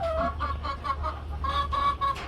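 Chickens cluck close by in a rapid series of short, rhythmic clucks, loud and clear over a faint background hum, with no one speaking.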